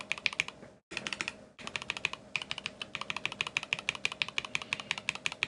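Close-up typing on a KBD67 Lite R2 mechanical keyboard with a deep, thocky tone, a steady patter of quick keystrokes broken by one brief pause near the start.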